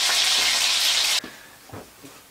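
Pizza ingredients fry in a pan with a loud, bright sizzle that suddenly cuts off partway through. A few light knocks and clatters follow close by.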